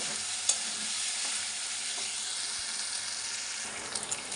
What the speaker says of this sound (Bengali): একটু আদা জিরের গুঁড়ো আর হলুদ দিয়ে দিলাম একসাথে আবার একটু কষিয়ে নেব